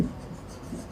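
Chalk or marker scratching and tapping on a board during a maths lesson, brief close strokes over about a second, with no talk.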